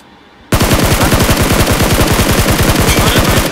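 Sustained automatic gunfire in the battle royale game BGMI, a loud, rapid, evenly spaced burst of shots starting abruptly after a quiet moment and continuing nonstop for about three seconds.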